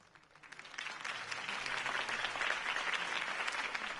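Crowd applause after a campaign speech in Batman: The Telltale Series, dense clapping that swells in over the first second and then holds steady and fairly loud.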